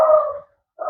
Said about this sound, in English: his dog is now upset because his daddy's home